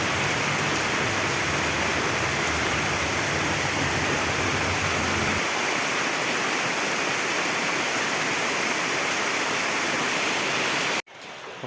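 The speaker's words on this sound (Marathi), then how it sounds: "पावसाने आणखीनच जोर धरलाय आणि खूप लागतोय गावचं वातावरण बघा पाऊस खूप लागतोय" Heavy rain pours down over a village and flooded fields, a loud, dense, continuous hiss of falling water that stays steady before cutting off sharply near the end, with no voices.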